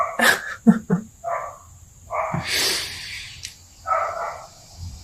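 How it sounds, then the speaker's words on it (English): A neighbour's dog barks outside in a few short bursts, some single and some in quick pairs, moderately near with quiet gaps between them. "my neighbor's dog has been let outside"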